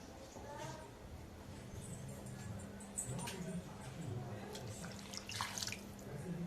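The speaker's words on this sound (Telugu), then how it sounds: "నేను కొంచెం వాటర్ పోసుకుంటాను" A small amount of water is poured into a cooking pot for country chicken curry, a quiet, close trickle and splash in a kitchen setting with faint voices nearby.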